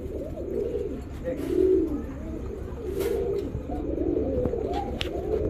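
A pair of red pigeons coos nearby in a continuous series of low, throaty rolling calls, steady and fairly loud with no talking.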